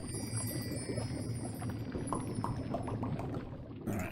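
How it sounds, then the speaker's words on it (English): Finished potion poured into vials in The Longest Journey video game, a soft, faint trickle and light glassy clinks over a steady background hum. "I'll just pour the finished potion into one of these vials."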